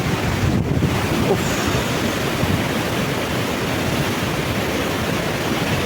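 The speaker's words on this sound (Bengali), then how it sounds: "আর এই ওয়াটারফলস থেকে নেমে আসা এই জলের স্রোত" Hundru waterfall near Ranchi roars steadily as water rushes down, a dense, loud, continuous wash with wind buffeting the microphone throughout and no other sounds breaking through.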